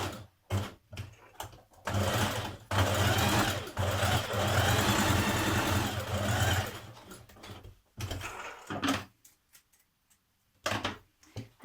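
A home sewing machine set to stretch stitch runs in bursts while joining armhole binding on a sports bra top, a close, steady whirring hum broken by short pauses and brief stop-start runs.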